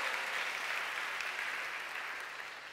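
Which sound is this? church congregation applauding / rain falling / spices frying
church congregation applauding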